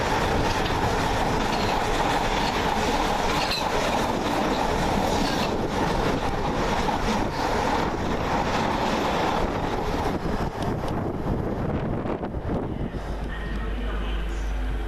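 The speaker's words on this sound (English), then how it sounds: "Next to fly through another freight train in the form of DRS's 66426" DRS class 66 diesel freight locomotive 66426 hauling wagons through Watford Junction station, a loud sustained rumble with rhythmic wheel clatter and some squeal passing close for the whole stretch.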